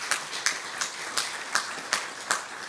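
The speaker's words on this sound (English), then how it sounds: "Give her a round of applause." Conference audience applause, a steady wash of many hands clapping with rhythmic swells, fairly distant and continuous throughout.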